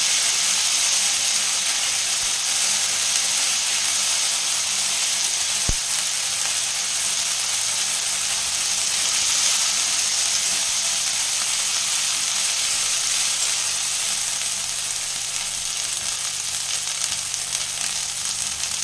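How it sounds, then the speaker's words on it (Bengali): Kohlrabi and potato frying in a pan, giving a steady, even sizzle that continues with no break at close range. "এটাকে ভেজে নেব ভালোভাবে, কাঁচা গন্ধটা যেন চলে যায়।"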